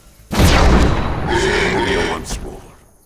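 A loud, sharp gunshot in the video game Age of Wonders: Planetfall bursts out, followed by a long rumbling tail with a strained, growling voice-like sound fading after a couple of seconds.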